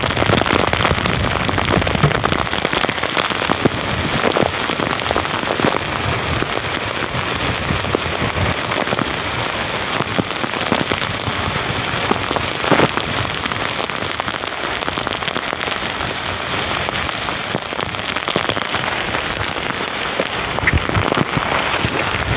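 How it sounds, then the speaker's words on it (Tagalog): Heavy monsoon rain from the habagat pours down in a dense, continuous hiss, drumming hard on nearby surfaces without letup and with no voices. "Talagang matindi itong ulan na ito."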